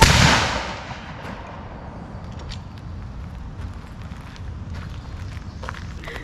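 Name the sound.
reenactment soldiers firing a gun volley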